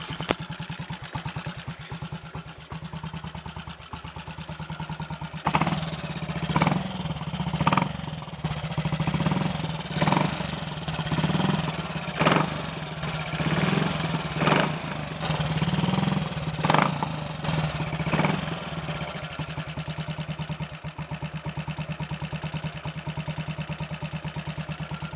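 A Triumph Tiger Cub motorcycle running on E10 fuel with a Zenith carburettor, first start after two months: a steady mid-pitched single-cylinder idle with a series of sharp revs or kicks in the middle, alone without talk.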